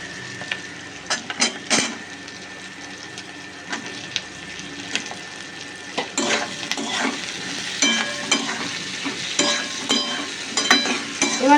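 Capsicum fries in a pan for chilli prawn with a steady sizzle, broken by repeated scraping and clanking of a spatula against the pan, loud and close throughout.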